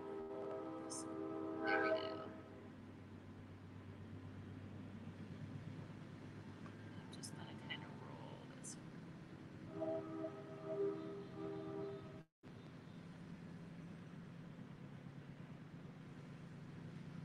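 A train passes far off, faint and rumbling, with two drawn-out horn blasts near the start and again later, heard from indoors at low volume.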